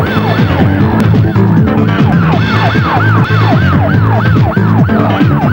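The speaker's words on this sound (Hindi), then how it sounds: "ये तो पुलिस के सायरन की आवाज लगती है।" Police car siren wailing loudly and continuously in a repeating rising-and-falling sweep, close by on a road while the car is followed, with engine and traffic noise underneath.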